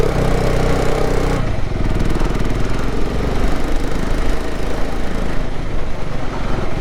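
A KTM Adventure 390 motorcycle engine labouring up a steep mountain road in first gear, a loud, steady, close drone that roughens slightly after the first couple of seconds and holds without a break.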